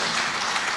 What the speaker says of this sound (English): Let's give a round of applause to both our candidates.